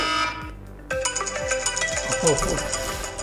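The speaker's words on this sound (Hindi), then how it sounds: "ये अलार्म का था" An iPhone alarm tone plays loudly, a bright repeating melodic ringtone with steady pulsing notes after a brief opening snippet.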